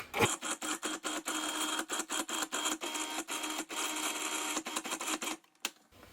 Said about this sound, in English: So let's cover up. And I am going to pulse.